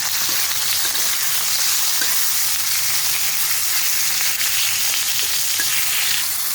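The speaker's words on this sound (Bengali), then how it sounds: "শিমগুলো ভেজে নেবে, তার মধ্যে আমি একটু নুন দিয়ে দিলাম, অল্প করে নুন আর অল্প করে হলুদ দিয়ে দিলাম, একটু ভেজে নেব।" Green beans with salt and turmeric sizzle loudly and continuously in a hot pan, with a steady crackling hiss and brief scrapes of stirring throughout; no voices.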